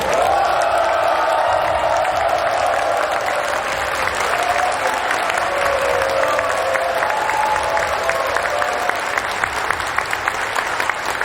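Loud, sustained applause and crowd noise fill the hall in welcome of four presidents, a dense steady clapping that holds at full strength throughout with some cheering mixed in.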